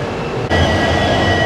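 Goods train passing close by: a loud, continuous rumble and rattle of wagons with steady wheel noise and a thin squealing tone, heard alone with no voices.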